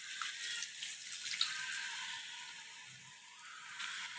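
Water pours steadily into a mixer jar in a home kitchen, a soft continuous splashing trickle up close that eases slightly toward the end.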